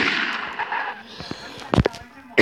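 Sniper rifle shots in a video game, a few sharp loud cracks near the end over game noise and background chatter, with a final blast right at the close.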